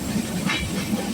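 A train runs along the rails near a station, giving a brief, steady rumble with faint clickety-clack from the wheels, close and fairly loud, with no talking.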